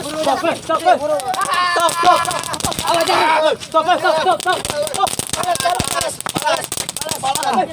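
Firecrackers crack and pop in rapid, irregular bursts close by, partly buried under excited, overlapping shouting from several people.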